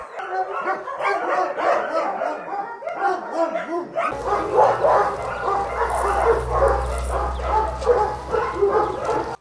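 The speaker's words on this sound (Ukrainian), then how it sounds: "дзвінки гавкіт лунає з кожного вольєру" Several shelter dogs bark and yip from their enclosures in a steady, overlapping chorus, close and fairly loud, joined partway through by a low background rumble.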